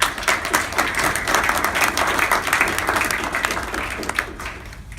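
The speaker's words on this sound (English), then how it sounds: "you all need to give yourself a big round of applause." A large crowd at a USA Boxing National Junior Olympics event in West Virginia applauds steadily and loudly for several seconds, a dense wash of clapping that tapers slightly at the end.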